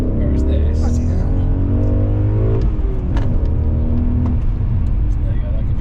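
A BMW E39 M5 accelerates hard, its engine note climbing through the revs in a sustained pull with a brief dip at a gearshift, heard from inside the car with a deep rumbling drone.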